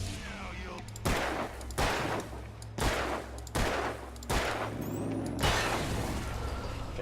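Gunshots in the video game Alan Wake, six sharp loud reports spaced about a second apart over a low droning background hum.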